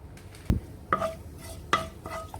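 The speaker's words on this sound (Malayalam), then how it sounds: "ഒരു 4-5 ടേബിൾ സ്പൂൺ വെളിച്ചെണ്ണ. അതിലേക്കൊരു 3/4 ടേബിൾ സ്പൂൺ പെരിഞ്ജീരകം ഇട്ട് കൊടുക്കാം." Fennel seeds being fried in a few spoonfuls of hot coconut oil, heard as a soft sizzle under several distinct clinks of a spoon against the pan, spaced out and fairly faint.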